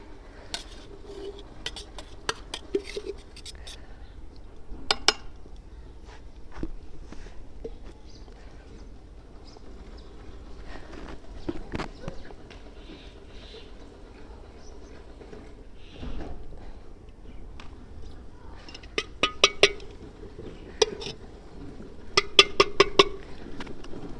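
A wok set onto a stove and ghee added for frying fish: sparse metallic clinks, knocks and clatters of cookware over a quiet background, with occasional small clusters of sharper clanks.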